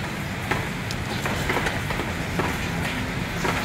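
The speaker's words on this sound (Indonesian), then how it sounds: "suaranya agak berisik karena di tempat saya lagi hujan." Rain falls on a house terrace as a steady, noisy wash with scattered sharper drips and taps, close and constant, with no talking over it.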